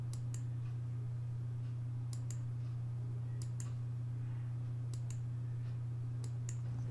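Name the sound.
computer mouse clicks and keyboard shortcut presses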